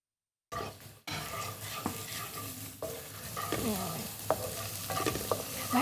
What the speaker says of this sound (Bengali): আমরা সর্বপ্রথম তেল নিব। রসুন কুচিটা দিয়ে দিছি।